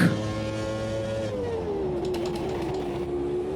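A race car in Automobilista 2 accelerates at full throttle, its engine note sweeping steadily and loudly through the gears with a continuous close-up drone.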